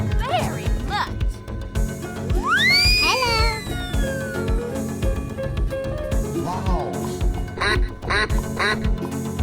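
A cartoonish duck quack from a guess-the-animal escape room game rings out among other synthetic animal calls and a busy game soundtrack, loud and close, with a voice talking over it.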